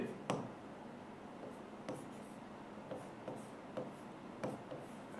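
Chalk or marker strokes on a board during a physics lesson, heard as faint scratchy bursts with short pauses between them in a quiet room.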